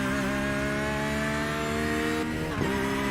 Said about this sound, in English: That sounds like the GTE car is revving that high on board with Nuno Vinagre